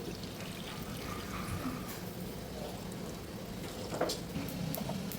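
About one and a half litres of water poured into a pressure cooker pot holding three goat legs, a steady rushing stream heard close and continuous, with a faint splash near the end.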